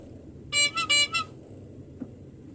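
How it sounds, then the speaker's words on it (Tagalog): A car horn honks in a quick burst of three or four toots over a low, steady rumble of moving traffic on EDSA after rain. "Moving naman ng traffic dito sa EDSA"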